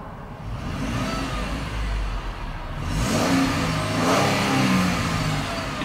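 A 2015 Ford Transit 150 cargo van engine runs close by and revs up a couple of times, the pitch rising and settling, loud and steady with no talking.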